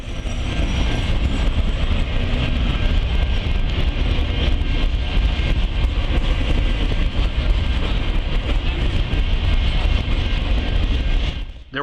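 A train rolls steadily past at close range, carrying the 10,000th Wabash RoadRailer trailer in Triple Crown branding, with a loud continuous roar and rail clatter that holds level throughout before dropping off at the very end.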